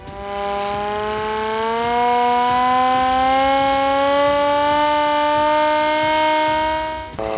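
A non-electric, hand-operated high-alert flood warning siren winds up to a loud, steady wailing tone that holds for several seconds, then drops off abruptly at the end.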